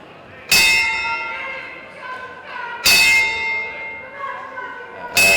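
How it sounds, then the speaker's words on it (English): At a boxing tribute, a ringside bell rings out part of a ten-bell salute, three sharp metallic clangs spaced about two and a half seconds apart, each loud and close with a long ringing decay in a hushed hall. "to pay our respects and pay tribute to Laura with a boxing family 10-bell salute"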